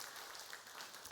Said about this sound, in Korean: 우리 박수로 환영의 박수를 하겠습니다